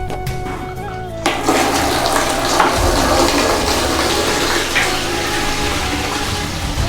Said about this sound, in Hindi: अभी पानी दे देती हूँ इनमें